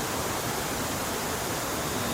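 Broadband, steady rush of a river flowing beside a natural riverside campsite in Sentul, a constant near wash of water with no breaks or voices.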